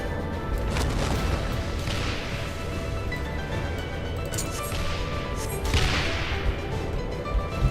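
Cannon fire in Final Fantasy XIV (Stormblood) battle, heard as sharp whip-like blasts and crashes over a dense, continuous bed of combat noise, with stronger impacts around the middle and end.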